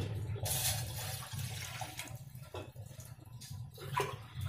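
About one and a half glasses of water poured into a pan on a gas stove, giving a steady, hollow rushing splash that keeps going for several seconds, close by and without talk.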